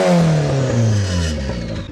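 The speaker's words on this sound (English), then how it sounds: "give us some big revs" A turbocharged Mazda Miata engine revs hard close by, its pitch climbing and then falling back as the throttle releases, loud and alone.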